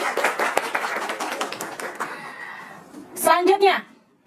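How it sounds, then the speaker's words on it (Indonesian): Students in a classroom debate session clap in a short burst alongside chatter and children's voices, the claps thin and scattered, followed by a brief louder flurry near the end. "Tepuk tangan dulu."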